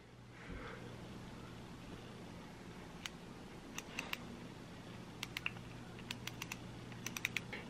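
A Piscifun Viper 1 baitcasting reel's drag gives a run of dry, dull clicks, sparse at first and then quicker and bunched toward the end, close up over a faint background hum.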